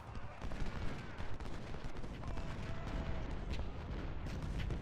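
Gunfire pours onto troops in the Civil War strategy game Ultimate General: Civil War, a dense, continuous crackle of musketry and distant volleys rolling through the whole stretch with no voices over it.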